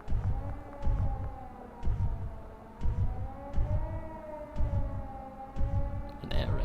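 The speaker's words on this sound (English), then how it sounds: "An air raid siren?" Wavering air raid siren in a video game, a low rising and falling drone with a pulsing, throbbing beat repeating about once a second, fairly quiet and steady throughout.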